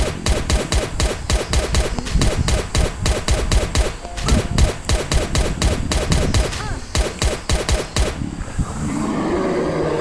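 Rapid gunfire from a Glock or shotgun in the survival video game Last Day on Earth, during an arena event. The shots are loud and crisp and come in dense, fast bursts, then stop and give way to quieter game ambience.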